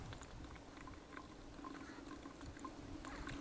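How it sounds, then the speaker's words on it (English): Water flows through a portable water filter while drawing drinking water from the Little Colorado River outdoors, making a steady, low, continuous trickle and rush throughout. "It just takes it a second to get this filter wet. This thing has a very good flow rate."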